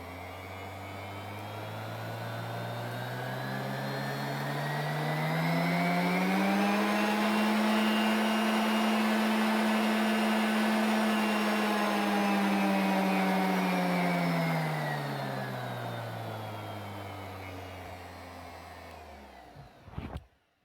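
Lidl Parkside disc sander running alone as its speed is turned up, a motor whine rising from low to a loud high peak, holding steady, then winding back down before it clicks off.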